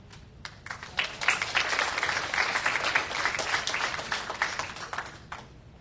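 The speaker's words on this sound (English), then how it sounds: "I think he deserves a round of applause." Applause at an April meeting of an organization, a moderately distant room of people clapping steadily for about five seconds, starting with a few scattered claps and trailing off at the end.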